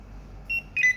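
A wireless NITA 3208R V.2 barcode scanner emits two short electronic beeps as it scans, the second a quick double-toned chirp, close and clear over a quiet background.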